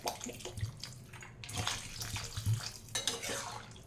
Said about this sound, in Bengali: এরপরে জল ঢেলে দেবো, অল্প, বেশি জল দেওয়ার দরকার নেই।